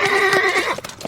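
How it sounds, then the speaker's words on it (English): A horse neighs loudly and close, a shrill whinny over a quick clip-clop of hooves as horses gallop in a dramatized Western audio drama. "The two young men galloped south, letting their horses run for a time"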